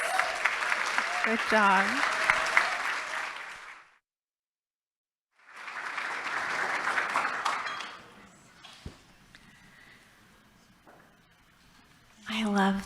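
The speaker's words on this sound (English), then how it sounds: "One more round of applause." Audience applause at an evening peace builder awards ceremony, a burst of clapping that fades, returns after a short silence, then trails off beneath a voice speaking briefly.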